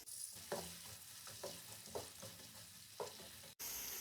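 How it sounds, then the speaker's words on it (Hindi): Onions browning with cumin in a pot for sajji pulao give a steady low sizzle, broken by several soft scraping stirs of a spoon, close and quiet, with no talking. "प्याज को हम हल्का सा ब्राउन कर लेंगे।"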